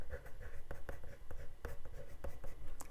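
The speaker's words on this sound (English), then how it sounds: "Now I'm gonna grab a pencil, and I'm gonna say this was the mix in the palette." Pencil writing on watercolor paper beside a paint palette: a series of short scratchy strokes and taps, fairly close and quiet, with irregular rhythm and no talk.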